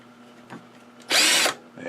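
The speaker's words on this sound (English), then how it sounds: "I'm going to chuck this into a drill" A power drill whirs loudly for about half a second, spinning a Singer 201-2 potted sewing machine motor part, a steady high-pitched spin that starts and stops abruptly amid quiet workshop handling.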